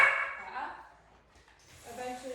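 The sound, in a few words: dogs barking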